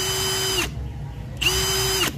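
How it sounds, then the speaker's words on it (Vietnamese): A Milwaukee 2997-23 cordless drill in drill mode whirs up twice, each run lasting under a second with a brief quiet gap between, loud and close. "đây là chức năng khoan"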